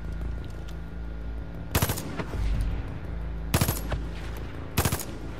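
Gunfire in Far Cry 5 arcade play: three sharp, loud bursts of automatic fire spaced a couple of seconds apart over a steady low ambient hum.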